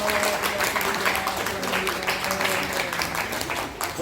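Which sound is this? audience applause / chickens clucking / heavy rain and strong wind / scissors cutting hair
audience applause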